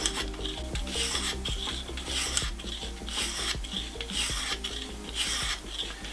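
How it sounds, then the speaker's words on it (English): A knife edge rasps against the fine stone of a Lansky Deluxe sharpening system in steady, even back-and-forth strokes, close and alone. "watching me sharpen a knife"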